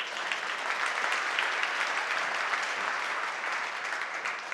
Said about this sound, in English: I don't know when you're applauding or not